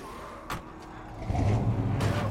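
A car driven in the zombie video game Dead Rising 3: a game engine idles, then revs up and roars louder partway through, with a couple of brief clicks early on.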